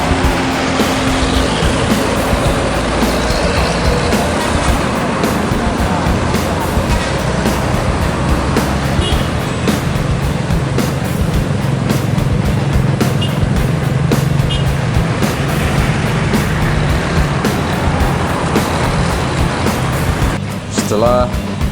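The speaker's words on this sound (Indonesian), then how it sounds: "bus Raihan beranjak meninggalkan Solok menuju daerah tujuan Jakarta dan sekitarnya" A Raihan intercity coach pulls away from Solok bound for Jakarta, its engine a steady broadband rumble with road noise throughout, while a voice talks over it.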